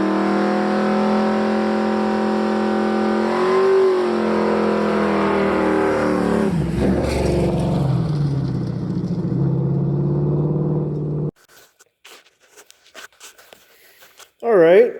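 A Ford 302 V8 pulled from a junk truck runs loud and steady in a 1976 Bronco, its harmonic drone rising and falling with revs for about eleven seconds before cutting off; afterward someone talks briefly.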